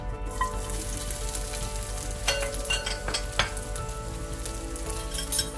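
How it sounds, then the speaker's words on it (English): Chopped onions and whole spices fry in a tablespoon of oil in a pot, making a dense continuous sizzle up close, punctuated by a few scraping stirs and light clinks partway through, with no speech. "Fry this well till your onions are browned"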